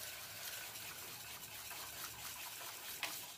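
Water is poured into a large cooking pot in a kitchen, making a soft, continuous gushing splash with a small bump near the end, faint and alone.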